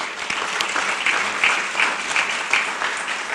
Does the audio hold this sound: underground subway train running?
no